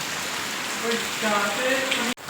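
Heavy rain pours over a flooded farmyard and paddy fields, a dense, steady hiss close by with some faint tonal sounds mixed in, ending in a sudden brief drop-out.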